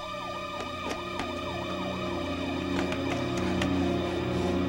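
A wailing emergency siren rises and falls in a steady, repeating cycle, heard at moderate distance over a low hum of traffic with a few sharp clicks and no voices.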